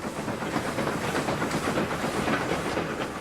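A 3F steam locomotive hauling a freight train, heard as a steady, loud rolling rumble with hiss and rhythmic clatter of wheels on rail, continuous throughout with no voices.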